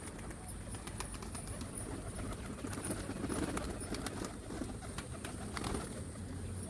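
Pigeons flutter and shuffle around a coop in a steady, busy patter of wing flaps and small knocks, with faint cooing at a moderate distance.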